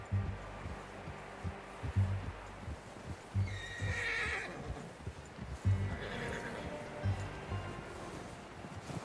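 A horse whinnies in Red Dead Redemption 2, a fairly close neigh rising over steady clip-clop hooves and a soft wind-like outdoor ambience.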